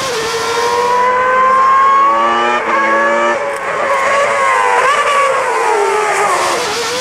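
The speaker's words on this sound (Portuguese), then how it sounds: "Vamos para a McLaren MP4 V10," McLaren MP4 V10 Formula 1 car from 1990 roaring at high revs, a loud screaming engine note rising and falling with gear changes, close and alone.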